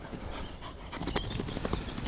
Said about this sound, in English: He's already panting for England.